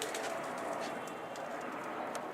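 Pigeons cooing and fluttering outdoors among a flock, a steady dense wash of birdsong with brief bright flaps, loud and continuous throughout with no talk.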